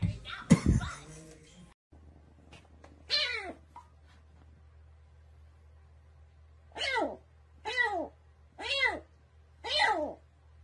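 A cat just back from the vet and still groggy from anesthesia lets out a series of drawn-out meows, one early and four more in a steady rhythm near the end, close and clear.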